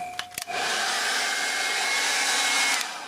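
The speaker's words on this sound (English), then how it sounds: "this is a really cheap, nasty, smelly hairdryer" A cheap 800-watt hairdryer switches on after a couple of brief clicks and blows with a steady, loud high-pitched whoosh and whine for a few seconds, then starts to cut off.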